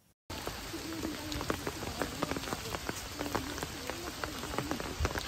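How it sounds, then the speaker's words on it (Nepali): Rain falling during a hike near Jamacho Gompa, a hilltop monastery: a steady, close patter with distinct drops striking a surface, with no voices. "पानी पर्न थाल्यो।"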